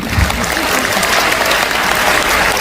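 Steady, dense applause from a crowd at a Catholic revival gathering fills the space, loud and continuous throughout.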